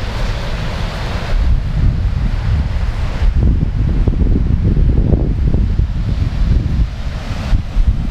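Sea waves break steadily on a long Taiwanese beach bay, loud and close, while gusts of wind buffet the microphone throughout.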